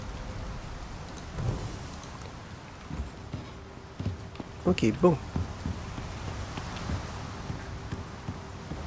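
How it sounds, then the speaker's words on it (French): Steady rain patters in the survival video game Icarus as a soft, continuous wash under a few clicks and thumps, with someone briefly speaking a couple of words partway through. "On va attendre qu'il arrête de pleuvoir."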